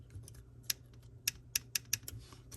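Sharp, irregular clicks over a low steady hum, about five distinct taps close by, each brief and crisp, from an iPhone 7 home button with a loose Taptic engine.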